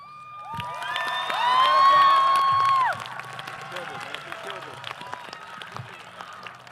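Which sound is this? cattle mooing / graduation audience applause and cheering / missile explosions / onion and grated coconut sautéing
graduation audience applause and cheering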